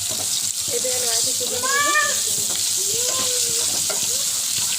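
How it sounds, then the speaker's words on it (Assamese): Duck eggs frying in a pan with turmeric, a steady loud sizzle filling the whole stretch, with someone speaking briefly over it. "ৰঙা হোৱাকৈ ডিমকেইটা ফ্ৰাই কৰি ল'ব লাগিব"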